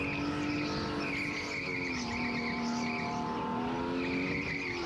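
Artificial canned engine sound from racing karts, a steady synthetic droning whine that holds a constant pitch with slight wavering, continuous and moderately loud with faint tire noise underneath.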